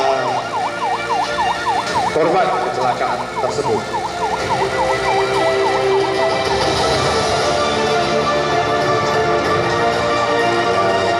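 An ambulance siren wails in a fast repeating up-and-down sweep during a security guard training exercise for an accident rescue, loud and close at first, then blending into engine and crowd noise while a narrator speaks.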